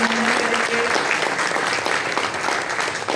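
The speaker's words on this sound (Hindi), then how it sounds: "एक बार जोरदार तालियों से" Dense, loud audience applause filling a hall at a dealers' awards event in Delhi, continuous clapping from many hands throughout without a break.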